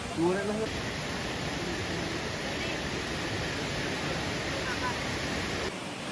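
A heavy waterfall with a lot of water pours down in a steady, dense roar that holds loud and unbroken throughout, close by, with faint voices briefly audible at the very start.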